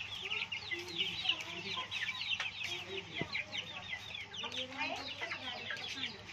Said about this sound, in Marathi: याच्यामध्ये सुद्धा डीपी क्रॉस आणि कावेरीचे पक्षी ठेवतात ते